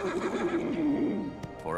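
A cartoon unicorn doctor gives a loud, drawn-out neigh with a wavering whinny that fades into a short squeaky tail.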